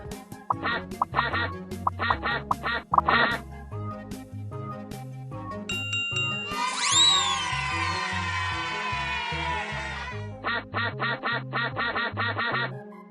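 Quacking sound effects from the video game Teach Your Monster to Read, chirpy repeated quacks in quick clusters over a synthesized tune, broken in the middle by a rising, swooping sound.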